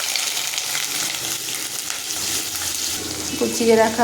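Chopped onions and black cumin seeds sizzling in hot oil, a loud continuous close frying hiss with some stirring, a brief voice near the end.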